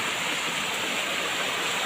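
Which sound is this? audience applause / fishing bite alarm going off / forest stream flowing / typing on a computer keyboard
forest stream flowing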